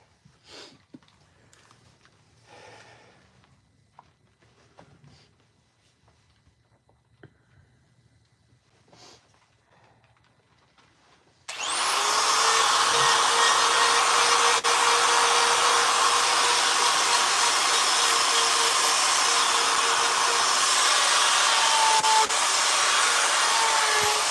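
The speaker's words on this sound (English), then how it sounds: "So running my die grinder and, well, cleaning it up" A die grinder cleans up a chainsaw-carved wooden fox, switching on after quiet handling noises and then running as a loud, steady high-pitched whine for the rest of the clip, with no talk.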